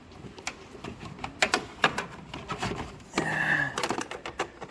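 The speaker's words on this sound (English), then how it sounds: "Ratchet wrench." A ratchet wrench with an 11 mm or 7/16 socket loosens a bolt while changing a backup light bulb on a 1997 Mustang: close, sharp metallic clicks in uneven bursts, with one brief whirring squeak.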